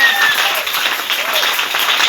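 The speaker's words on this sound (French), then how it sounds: "est-ce qu'on peut prouver cela par l'acclamation?" A church congregation breaks into applause and acclamation during a sermon, loud continuous clapping with faint raised voices mixed in throughout.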